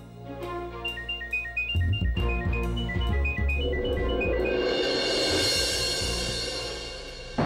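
A melodic electronic ringtone plays loudly, its chiming notes repeating over a thick, rising musical backing.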